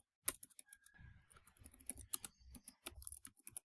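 Someone types a short line of Python code on a computer keyboard, with quiet, irregular key clicks in small bursts and brief pauses in between.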